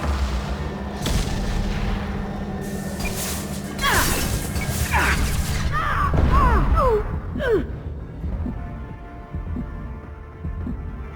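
Heavy gunfire in a Mass Effect 2 battle, with sustained low rumbling, crashing impacts and scattered bursts layered under a busy combat mix, building toward the middle and easing off near the end.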